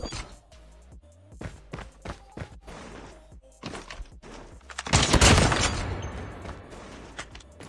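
Rapid gunfire cracks in Call of Duty: Mobile as a series of sharp close shots, followed by a louder, heavier sniper blast with a long rumbling tail, then a few more scattered shots.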